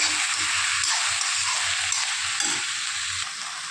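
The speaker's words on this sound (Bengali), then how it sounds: "লাউটাকে এরকম করে বেশ কিছুক্ষণ নাড়াচাড়া করে নেব।" Bottle gourd frying in a pan, a steady close sizzle with the rhythmic scrape and shuffle of a spatula stirring the pieces, no talk.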